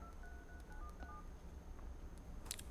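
Phone keypad dialing tones beep in a quick series of short, clear notes, followed by a faint brief chirp, with no voices.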